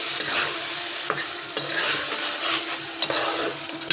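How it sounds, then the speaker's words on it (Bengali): Cumin and chilli paste masala sizzles in a pan with oil and added water while a spoon stirs it, a steady frying hiss broken by occasional scraping knocks. "জল দিলাম আমি মশলাটা ভালো করে কষার জন্য, তেলটা বেরিয়ে যাবে, কষাবো আরও"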